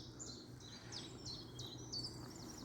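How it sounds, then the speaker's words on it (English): A chiffchaff sings far off on a springtime walkway walk, its repeated high chirping notes coming in a regular rhythm, faint against a quiet outdoor background with no talking. "Chiff chaff in the distance."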